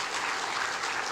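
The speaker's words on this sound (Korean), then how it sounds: "하나님께 영광의 박수를 한번 올려주시기 바랍니다" Church congregation applauding during a worship service, a steady, dense wash of clapping that holds evenly throughout without any speech.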